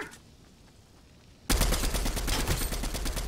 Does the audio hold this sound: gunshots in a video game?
yes